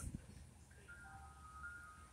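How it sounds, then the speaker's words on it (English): A faint, distant ice cream truck jingle plays a thin, tinkling melody over quiet outdoor background noise. "when I heard the ice cream truck, I was like, I have to go and buy some."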